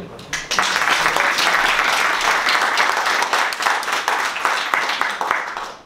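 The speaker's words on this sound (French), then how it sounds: "je crois déjà, on peut s'applaudir" A crowd at a party general assembly in a comedy theatre breaks into applause, a sudden loud wash of many hands clapping that stays strong for several seconds and then thins out toward the end.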